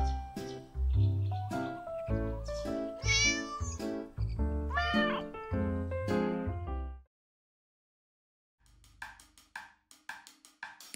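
Cat meows from the video game Crazy Cat Lady: a run of loud, tuneful meows over several seconds, a short silence, then softer rapid clicking sounds.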